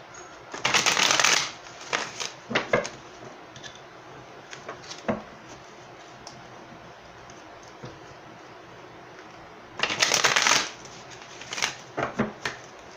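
Tarot cards are shuffled in a quick riffling burst, followed by scattered soft card taps and slides, then a second brisk shuffle near the end, all close and fairly quiet.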